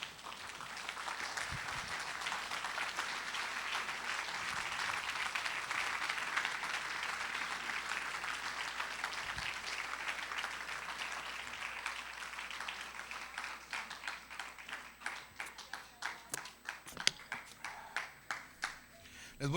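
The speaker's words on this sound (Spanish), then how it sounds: "Quien lo crea, póngase de pie dándole un fuerte aplauso al Señor" A church congregation stands and applauds, a broad rolling wash of clapping under a speaker's voice that thins toward the end into a few distinct, separate claps.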